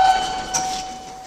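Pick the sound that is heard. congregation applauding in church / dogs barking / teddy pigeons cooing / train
train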